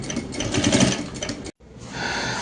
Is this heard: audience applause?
no